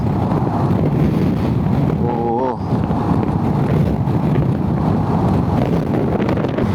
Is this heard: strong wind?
yes